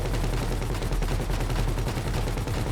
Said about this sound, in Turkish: Böyle boşa sıkıyorlar, gürültü yapıyor bunlar.